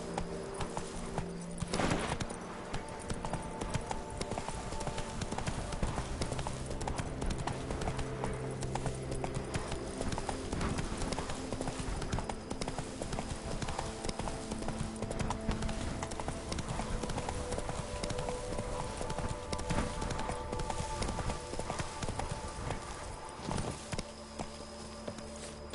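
A horse galloping in The Witcher 3 video game, a steady rhythmic clip-clop of hooves running on through a dense background of game ambience, with a brief rider's voice.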